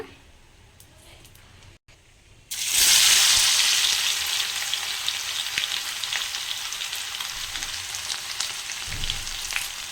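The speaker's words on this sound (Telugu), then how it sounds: "ఇప్పుడు ఇంకా దంచుకున్న వెల్లుల్లి అయితే వేస్తున్నారు అత్తమ్మ" Crushed garlic hitting hot oil with already-fried dried red chillies for an egg karam, bursting into a loud, close sizzle after a quiet moment and holding as a strong, even frying hiss to the end.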